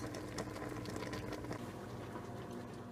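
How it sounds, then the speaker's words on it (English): Sweet potato leaves blanching in a pot of boiling water, a soft continuous bubbling and hissing that stays steady and faint throughout. "Blanch the leaves in boiling water for 30 seconds."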